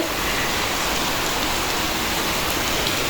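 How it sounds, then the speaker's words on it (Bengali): Steady rain pours down outdoors after days of intense heat, a dense, even hiss of drops hitting surfaces that holds at constant loudness from start to finish, with no voices. "তারপরে বৃষ্টি চলে আসছে"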